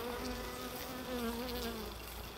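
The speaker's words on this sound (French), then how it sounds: "Regardez, c'est peuplé en abeilles." Honey bees buzzing densely over a populated Layens hive frame at an apiary in late October, a steady close droning hum with wavering tones throughout, no voices.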